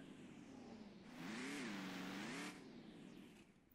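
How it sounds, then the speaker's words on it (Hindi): Car engine in the game Ranch Simulator revving up as the vehicle pulls into a garage, a rising and wavering whir that swells for about a second and a half and then drops back to a low idle. "ओके ले चलो गाड़ी को सीधा अंदर"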